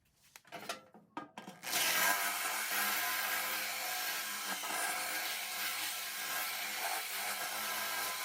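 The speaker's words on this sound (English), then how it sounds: "So let me try to drill it out again." A few short taps and knocks, then a power drill whirs steadily and loudly, enlarging a hole up close on an Early Bronco under restoration without letting up.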